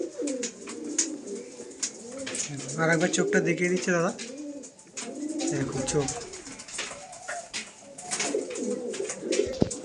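A Madrasi pigeon coos in soft, repeated throaty rolls close by, while someone talks over it in Bengali.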